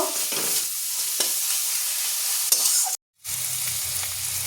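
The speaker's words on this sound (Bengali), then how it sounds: "ধনে গুঁড়ো জিরে গুঁড়ো দিয়ে এবার এটা আমি মশলার সাথে ভালোভাবে মিশিয়ে নেব নিয়ে ভালো করে কষব" Spices with coriander and cumin powder being stir-fried in a pan, a steady close sizzle with scraping stirs, a brief silent gap, then a lower bubbling fry.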